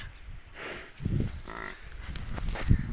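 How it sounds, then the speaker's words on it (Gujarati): A buffalo on a farm lets out low, close moos in short bursts, with a louder grunt near the end. "આ ભેંસ છે"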